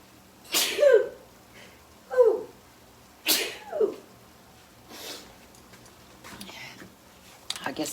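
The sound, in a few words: sneeze while cooking, caused by pepper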